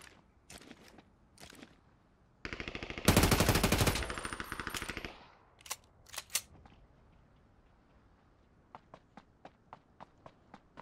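Video game gunfire: a dense burst of automatic shots fills the middle, then separate single shots and a quick run of faint, evenly spaced pops toward the end, with short clicks and footsteps before it.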